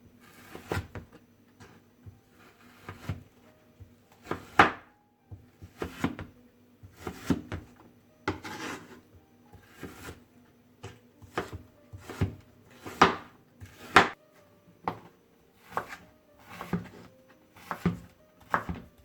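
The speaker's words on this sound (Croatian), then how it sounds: "Meso uvijek sjeckam skoro pa zaleđeno kada je u pitanju sjeckanje na sitnije komade" A knife chops nearly frozen meat into small pieces on a kitchen board, with sharp, close knocks in steady bursts of two or three, repeated throughout with short pauses between.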